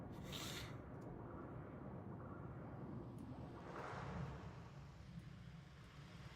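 Continuous rushing roar of a waterfall in the stealth video game Thief, a steady broadband wash of falling water heard alone at moderate level with no voices.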